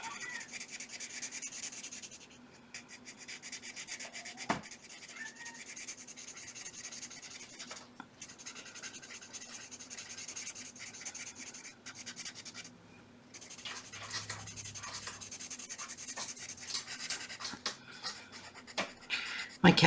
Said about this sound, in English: And I'm blending it all together.